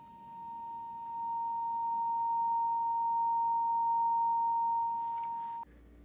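A metal pipe rings at its fundamental as neodymium magnets excite it, giving a steady, pure sustained tone that swells slightly and holds for about five seconds before cutting off abruptly.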